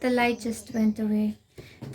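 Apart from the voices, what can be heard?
No everyday noise stands out behind the speech.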